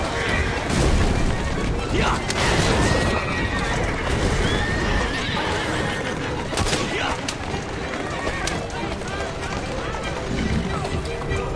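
A horse-drawn carriage races in Assassin's Creed Syndicate, with hoofbeats, neighing and rumbling wheels mixed with crashes, loud and busy under game dialogue.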